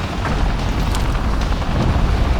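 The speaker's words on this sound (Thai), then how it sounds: "โยนระเบิดให้นะฮะ โยนตัวจุดระเบิดให้แล้วก็" A grenade explosion in the shooter Modern Combat 4 lands as a loud, booming blast with a heavy rumble that carries through the whole moment, and no voices are heard.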